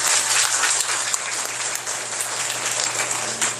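Audience applause at a summer church gathering, a steady dense wash of many hands clapping throughout, close and fairly loud, with no talking.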